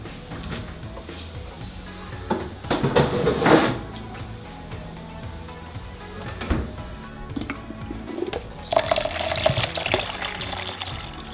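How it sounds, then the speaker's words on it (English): Water is poured into an avocado, banana and milk smoothie mixture, with a running splash and pour sounds rising and falling, plus brief knocks and clatter between pours. "Let me add in some water."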